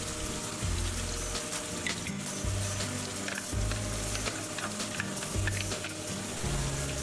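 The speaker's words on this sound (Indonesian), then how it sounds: "Kita tumis bumbu hingga benar-benar harum dan matang tentunya" Steady sizzling and crackling of spice paste frying in hot oil, continuous and close, with faint low thumps in the background.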